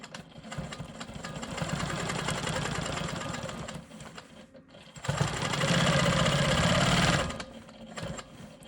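A Quilt Maker Pro 20 quilting machine stitches a quilt block in steady, loud bursts of fast mechanical whirring, easing briefly around the middle before running hard again, with no voices.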